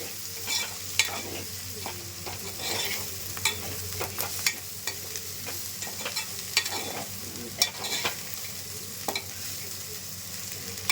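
Chili powder is stirred into hot garlic-infused oil, with a spoon scraping and clinking against the pan in irregular strokes over a low, steady sizzle, close and fairly quiet, with no voices.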